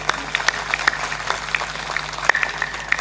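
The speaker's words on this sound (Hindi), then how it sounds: "बजाइए ताली।" An audience at a spiritual discourse by a saint claps in applause, a thin spread of scattered hand claps, moderately loud and steady for a few seconds, with no talking over it.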